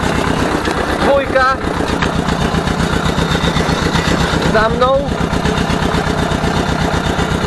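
An Ursus C 325 tractor engine runs steadily with a loud, close, even rhythmic chugging throughout, while someone speaks briefly over it.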